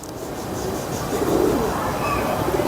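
A female Lal Pari pigeon of Kasur bloodline coos softly in a loft, low rolling calls nearly continuous against steady background noise.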